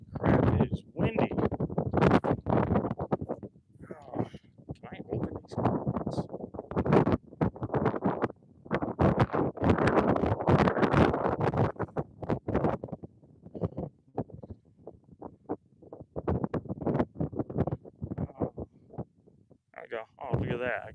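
Strong wind sweeps across open Badlands country where American bison are being scouted, its gusts buffeting the microphone in rough, uneven bursts throughout while someone talks.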